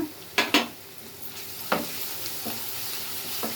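Minced keema with onions, ginger garlic paste and turmeric frying in a pan: a low background sizzle punctuated by a few distinct spatula scrapes and knocks, a quick pair early and then scattered single strokes.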